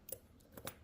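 Two quick scissor snips cutting the thread that tied a rusty coin to a tribal-style belly dance belt, short sharp clicks close by with a pause between them.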